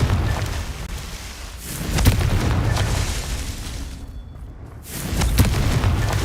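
Booming blasts from the Confringo fire spell in Hogwarts Legacy, heavy low thuds around a brief quiet gap, with rumbling game ambience between the explosions.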